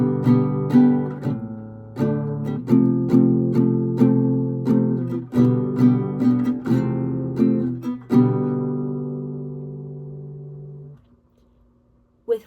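An acoustic guitar strums chords slowly and rhythmically, firm downstrokes about every half second, close and clear. The last chord rings out and fades over several seconds, with no voices.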